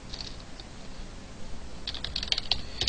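Programming code is typed on a computer keyboard in quick, light key clicks, close and fairly quiet, sparse at first and then denser in a short burst.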